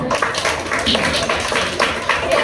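Schoolchildren in a classroom clap their hands in a brief burst of rapid, overlapping claps, close and fairly loud, with voices mixed in.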